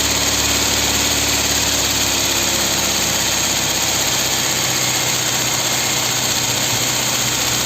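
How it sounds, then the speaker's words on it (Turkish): A carburetor car engine idles steadily at close range, a constant low rumble with a faint mechanical whine and no voices. "bakın motorun sesini dinleyin"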